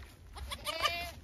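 A dairy goat bleats just after giving birth, a short wavering, nasal cry heard fairly close but at moderate volume, over a low background hum.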